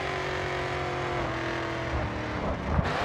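Race car in the Grid 2 racing game, its engine droning steadily and loudly throughout, with the pitch shifting near the end as it brakes into a turn; no voices.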